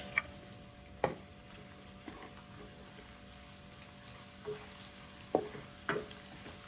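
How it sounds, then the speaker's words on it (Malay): Quiet sizzling of small anchovies frying in hot oil, with occasional clicks and stirring taps over a low hum. "Bermula sekali saya akan goreng dahulu ikan bilis ni."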